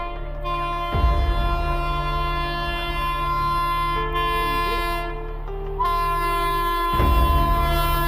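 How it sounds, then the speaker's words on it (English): A train rumbles past with sustained horn blasts, the tone holding and shifting, with heavy low clanks at the start and end. "The sharp sound of the train's horn pierces the air"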